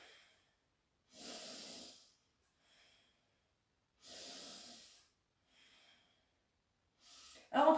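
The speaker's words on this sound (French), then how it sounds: "Et on respire." Slow, deep breaths during a gentle leg stretching exercise, a few long exhalations spaced a couple of seconds apart, close and soft in an otherwise quiet room, ending with a brief louder sound.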